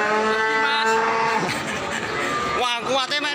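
Cattle low with long, loud, drawn-out moos at the Wirosari cattle market in Grobogan, where Limousin cows are sold; one moo fades and another follows, with people talking in the background.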